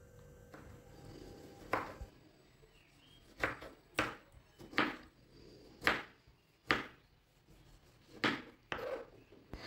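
A knife cuts medium-sized tomatoes on a board in about ten crisp, separate chops at an uneven steady pace, each a sharp knock against quiet kitchen background, with no one speaking.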